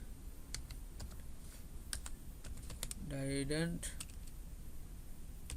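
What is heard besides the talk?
typing on computer keyboard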